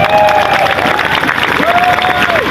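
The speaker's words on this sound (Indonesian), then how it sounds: "Aplaus untuk teman-teman semua di sini." Sustained applause and cheering from a crowd of student protesters outdoors, dense steady clapping throughout with a whistle-like tone rising above it.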